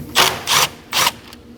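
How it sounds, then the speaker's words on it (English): A 10mm socket ratchet loosens a bolt on the intake manifold of a 2011-2016 Kia Optima, with three short, close bursts of rapid clicking separated by brief pauses. "So go ahead and use a 10mm socket and remove that 10mm bolt."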